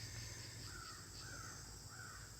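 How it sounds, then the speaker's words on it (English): Crows caw outdoors in three or four short, drawn calls, moderately distant, over a steady background hiss. "if you can hear the crows, they're calling"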